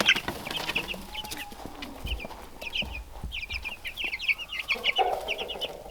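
Cornish cross meat chickens on a farm cluck and chatter continuously in repeated bursts, close by and fairly loud, with no talking over them.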